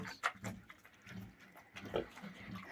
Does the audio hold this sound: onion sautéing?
no